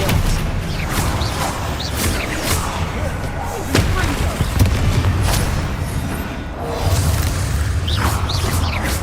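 An Expelliarmus spell is cast in the Hogwarts Legacy video game, heard as loud whooshing blasts and booming impacts inside a dense, continuous roar of combat.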